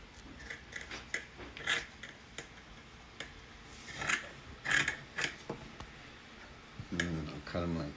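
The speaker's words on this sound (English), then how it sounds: "And I'll go ahead and cut this kitty." Scissors snip through a strip of material in a quick series of sharp, close clicks and cuts, crisp and irregular, while a person talks over them.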